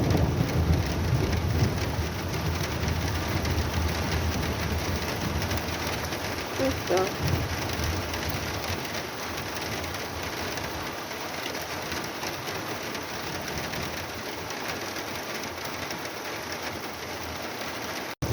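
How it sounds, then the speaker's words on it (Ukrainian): Heavy rain pours down in a continuous loud wash, with a low rumble of thunder early on and pigeons cooing faintly. "Марка невеличка, а дощ піріщить."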